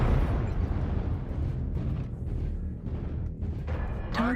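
A volley of ATM missiles slams into a mech in MechWarrior, a dense rolling blast that rumbles on for several seconds, loud and close, ending with a short rising electronic whine.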